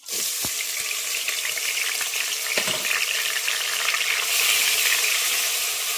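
Coarsely ground paste from two large onions drops into hot oil for a village-style country chicken curry, setting off a loud, steady, hissing sizzle close up that swells slightly near the end, with a few stir clicks early on and no talking.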